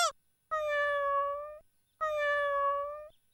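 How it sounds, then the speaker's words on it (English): A cat in a classic Dennis the Menace cartoon meows twice, each a clear, drawn-out, tonal meow lasting about a second, close and loud with a short pause between them. "I'm calling my cat."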